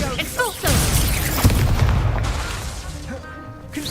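A spell explosion from the Hogwarts Legacy video game bursts with a booming crash, surrounded by game voices and whooshing magical effects, its rumble trailing off over a few seconds.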